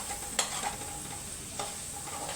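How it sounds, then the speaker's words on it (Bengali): Vegetables and spices for pav bhaji sautéing in a pan, a soft steady sizzle broken by two sharp scrapes of a stirring spoon; quiet and close, with no talking. "সব সবজিগুলোই অল্প অল্প সটে করে নিতে হবে"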